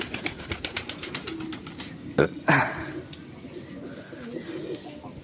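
A new pair of lokka pigeons coos close by in a quick run of rhythmic pulses, followed by a couple of louder knocks and softer murmuring cooing in a small indoor space.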